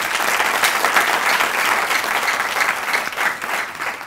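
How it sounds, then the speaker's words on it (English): An audience applauds at an academic professorial inauguration ceremony, a loud continuous wash of clapping from a large hall crowd that carries on throughout without pause. "let's give her a round of applause"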